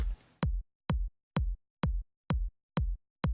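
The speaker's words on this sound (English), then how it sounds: "The kick is a really bad EDM kick" A punchy EDM kick drum sample plays on its own, seven sharp evenly spaced thumps with short decays, dry and loud, with no other sounds.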